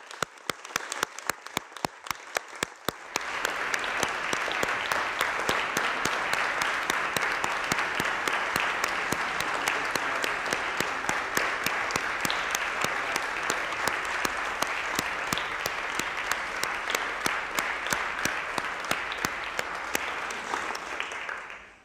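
Applause at a municipal council meeting, one person clapping slowly and alone before the whole room joins in dense, sustained clapping that holds steady for about twenty seconds.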